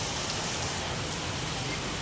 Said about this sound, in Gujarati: બહુ વરસાદ આવે